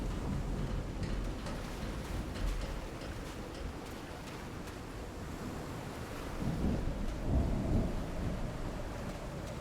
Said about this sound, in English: Don't give me thunder.